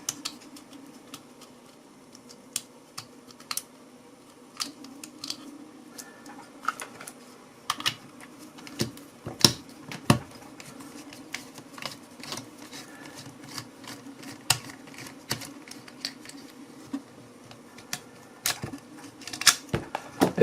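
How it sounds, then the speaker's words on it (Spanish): A screwdriver working loose the screws on a washing machine motor, heard as a long run of small, close clicks and ticks over a faint steady hum. "vamos a quitar estos tornillos"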